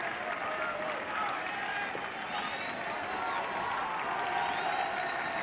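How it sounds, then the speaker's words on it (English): A rugby league match crowd applauds steadily throughout, a broad wash of clapping with a murmur of voices mixed in, moderately distant. "Applause in the background is for Mitch Newton, who gets a welcome brea"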